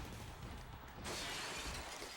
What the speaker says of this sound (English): this is the only Smackdown game that actually has a sound effect when they go through the glass